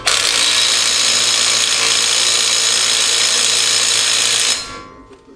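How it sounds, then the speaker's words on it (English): A power tool, likely an impact wrench, retightens the CV nut on a Nissan Navara, whirring loudly and continuously up close for several seconds before cutting off abruptly. "Time for my favourite tool again to retighten up the CV nut."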